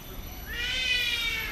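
A bird at Singapore Bird Park gives a drawn-out, rising cat-like meow call, close and fairly loud over a steady outdoor background hiss.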